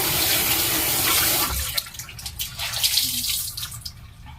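Water runs from a tap for a quick rinse during a skincare routine, a steady rushing stream that stops partway through, followed by softer drips and splashes.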